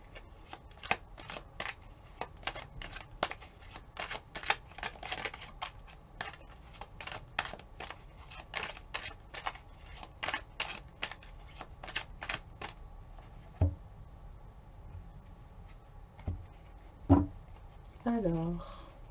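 Tarot cards shuffled by hand, a long dense run of crisp riffling flicks that fades into a few scattered card snaps and handling sounds near the end, close and fairly quiet.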